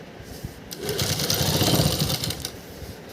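A sewing machine runs a quick burst of loud, close stitching, a temporary basting top stitch on a homemade kurti, speeding up and then slowing to a stop.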